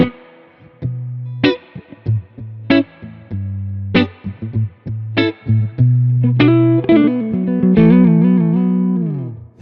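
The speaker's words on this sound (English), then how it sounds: "The reverb sound is pretty lush there." Tube-driven spring reverb on a MESA/Boogie Mark IIC+ guitar amp, with distorted guitar notes and chords blooming into a lush, lingering wash, and tails ringing out after each attack, played alone without talk.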